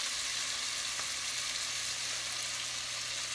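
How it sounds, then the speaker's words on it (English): Onions frying in grease and oil, a steady low sizzle and hiss running evenly throughout with no talking. "we're gonna let these onions cook"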